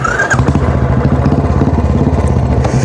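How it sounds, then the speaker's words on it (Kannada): A Royal Enfield Classic 350 fitted with an aftermarket silencer runs close by, its loud, deep single-cylinder exhaust thumping in a rapid, steady beat with no talk over it. "ಸೌಂಡ್ ನೋಡ್ರಿ ಇದ್ರದ್ದು ಸೌಂಡ್ ಭಾರಿ ಅದ, ಏಕ್ ನಂಬರ್ ಅದ ಸೌಂಡ್"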